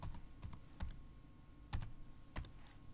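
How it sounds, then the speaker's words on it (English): Keys on a computer keyboard tapped to enter an address into a Chrome browser field, a few quick clicks scattered across a short quiet stretch, close and fairly soft, with no talking. "Open the Chrome browser and into the address field type"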